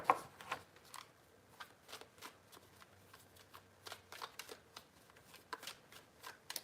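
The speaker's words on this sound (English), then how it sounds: "Three shuffles." Tarot cards are shuffled in a quiet room, crisp riffling bursts repeating in an uneven rhythm, close and fairly soft.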